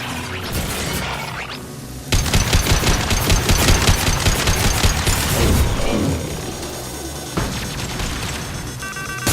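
Sustained gunfire in a Mass Effect 2 firefight: loud, rapid automatic bursts with booms and impacts, dense and continuous for several seconds before easing.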